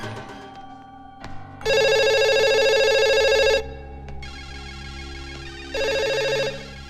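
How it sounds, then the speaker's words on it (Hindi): A telephone rings in two loud trilling electronic bursts, the second shorter, with quieter shuffling sounds between them. "इतनी देर से वो फोन बज रहा है"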